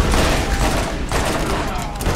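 Rapid bursts of rifle fire in the video game Borderlands, a dense, loud crackling volley that runs almost unbroken, with a player's voice faintly mixed in.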